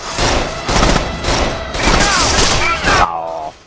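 Gunfire from someone shooting in a GTA-like open-world game, several loud rapid bursts in quick succession, with a voice heard near the end.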